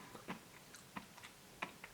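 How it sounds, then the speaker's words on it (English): Someone chews crunchy Gelatelli Zaubersterne ice cream stars close up, with a few soft, quiet crunching bites spaced irregularly over a couple of seconds. "I hope you can hear the crunch"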